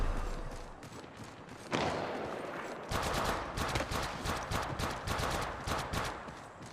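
Rapid automatic gunfire from the mobile video game Apex Legends Mobile, loud dense bursts of shots running almost continuously, with a brief lull before a heavier sustained volley.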